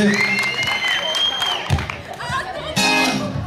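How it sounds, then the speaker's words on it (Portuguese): An audience claps and cheers, with whoops and shouted voices mixed through a dense burst of applause, loud and close, swelling again near the end. "Palmas pra eles!"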